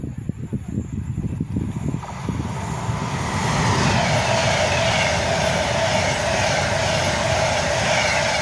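A Pendolino passenger train passes through Rugeley Trent Valley station, approaching with rhythmic wheel clatter that swells into a loud, sustained rushing roar as it goes by.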